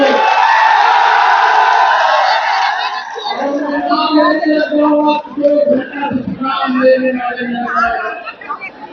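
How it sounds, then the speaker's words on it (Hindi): A large rally crowd at Gandhi Maidan in Patna, with loud, dense chatter giving way to cheering and whooping, the crowd noise sustained and near throughout. "ये जो भीड़ देख रहे हैं"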